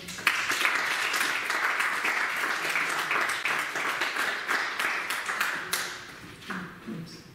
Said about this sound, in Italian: È presente in sala e lo salutiamo con un applauso.